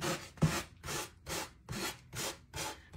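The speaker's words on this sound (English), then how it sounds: "But I don't want to sand off the paint, so I'm doing a little bit light." Light, steady back-and-forth sanding of decoupage paper edges on a painted coaster, about six even rubbing strokes close up with no talk.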